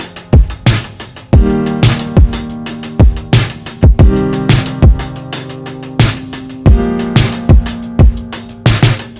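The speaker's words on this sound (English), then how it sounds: "So those with the drums sound like this." Indie rock beat with punchy drums driving steadily under ringing piano chords that change every couple of seconds, loud and up close with no voices.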